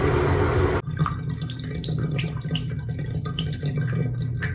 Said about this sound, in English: The spout is dripping a little water, making a little indentation there, but it's a slow drain.